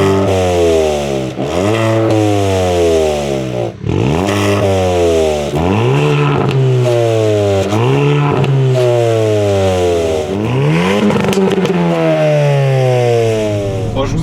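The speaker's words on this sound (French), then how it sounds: "Je vous propose qu'on écoute la sonorité de son moteur et on va faire un tour." A Hyundai i20N hot hatch engine revs repeatedly and loudly close by, each rise in pitch followed by a fall back to idle, about six blips in a row with no talk.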